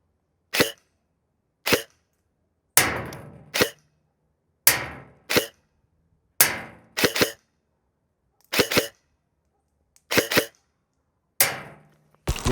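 Nova Neptune MARSOC airsoft rifle fired at a 50-metre target, with about a dozen sharp single pops at irregular intervals of roughly a second, each followed by a brief rattling tail, loud and close against near-silence.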